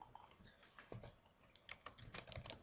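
Fast, light typing on a computer keyboard while writing a blog post, with quiet, irregular clicks in quick bursts, close up and alone with no talk.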